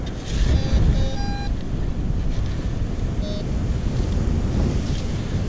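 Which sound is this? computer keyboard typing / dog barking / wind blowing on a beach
wind blowing on a beach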